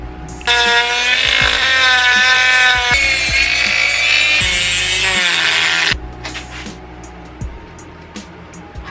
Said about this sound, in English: So I want to minimize the actual grinding I have to do.